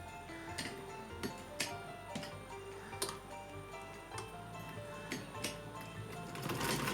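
A sewing machine stitches a small Laddu Gopal dress along its border, giving a soft, quiet run of rhythmic ticking and clacking with a steady mechanical pace.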